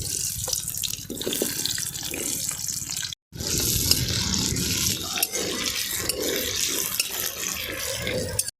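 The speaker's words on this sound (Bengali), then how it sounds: "তো আমরা আলুটা ভেজে নেবো, তেলটা গরম হয়ে গেছে।" Potatoes fry in hot oil in a kadai for a country-style mutton curry. The sizzle is a steady, close, bright hiss that breaks off for a moment before continuing strongly.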